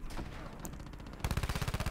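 Hip-fired automatic weapon gunshots in Call of Duty Black Ops 4: a brief burst of loud mixed game action, then a rapid string of sharp, evenly spaced close shots.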